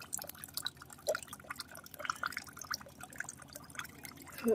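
Coconut water from a freshly cut Gokulnagar village coconut pours and drips in a soft, uneven trickle, close by and fairly faint, with a few brighter splashes near the end.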